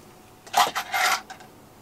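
Small metal screws drop into a cup with a quick cluster of bright metallic clinks and rattles lasting under a second, close and with no talk.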